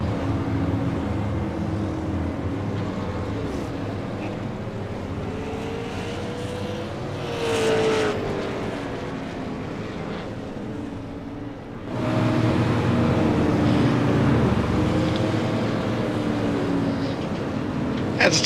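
Race cars at an NHMRL ETI Southern Super Series event roar steadily on track, the engine noise swelling near the middle and growing louder and denser toward the end.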